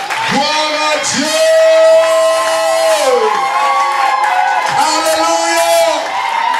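A church congregation at a pastor's consecration cheers and acclaims God, with loud sustained shouts and whoops rising and falling in overlapping waves from many voices close by.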